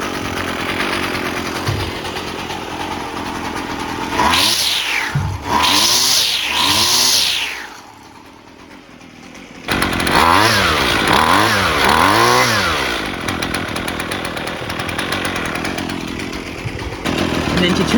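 Husqvarna 128LD string trimmer two-stroke engine running after a carburetor replacement, idling, then revving up and down in three quick bursts, dropping to a low idle, and revving again in a series of rising and falling pulls, close and loud.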